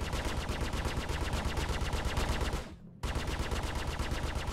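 Rapid automatic gunfire in a video game rattles in a steady, fast stream of shots, cuts out for a moment of silence, then resumes at the same relentless rhythm.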